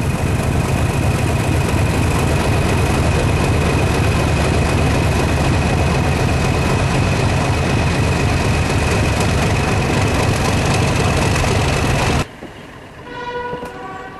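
Diesel train pulling away from a station in the Forest of Dean near Parkend, a loud steady rumbling roar up close that cuts off abruptly near the end, leaving quieter surroundings.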